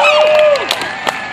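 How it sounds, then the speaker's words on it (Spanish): A crowd applauds and cheers after a Fourth of July fireworks show, a short loud burst of clapping mixed with whistles and shouts close by. "La gente aplaude"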